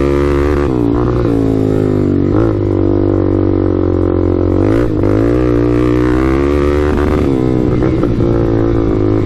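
A Suzuki LTZ400 quad's engine bounces repeatedly off the rev limiter in second gear, a loud, close, steady high-revving drone broken by sharp stuttering cuts every couple of seconds.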